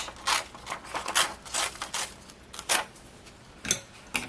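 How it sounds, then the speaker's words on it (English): A worn paper page is torn by hand down along its edge, giving a series of short, close rasping rips in uneven bursts, with brief pauses between pulls and no voices. "just rip this down right along the edge"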